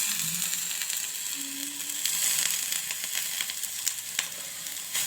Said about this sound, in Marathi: हे परतून घ्यायचं जरा.